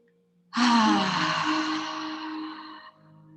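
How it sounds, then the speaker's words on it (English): A single deep, slow breath during a relaxing yoga session, heard as a long, close, breathy sigh with a soft voiced edge that fades out over about two seconds in an otherwise quiet room. "take a big breath in and let it all out"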